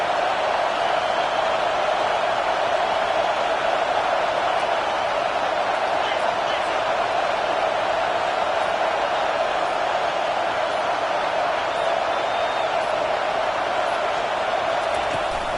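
A packed football stadium crowd roars for the defense on third down at an Oregon State game, a loud, sustained wall of noise that holds steady throughout.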